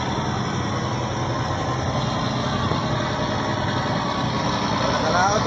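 Fishing boat engine running slowly just out from the pier, a steady, loud, continuous droning rumble with no change in pace.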